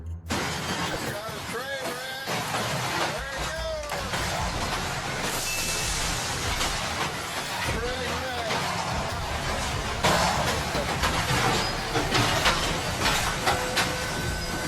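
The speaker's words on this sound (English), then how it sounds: "all 91 train cars derailed," A freight train of 91 grain-filled cars derails, roaring and grinding continuously, with metallic screeches and crashing clatter throughout, loud and close, and a voice speaking over it.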